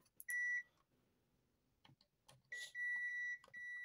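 Multimeter continuity tester beeping while probing optocouplers on a circuit board, giving a short tone followed by a longer sustained beep, close and clear amid faint handling clicks.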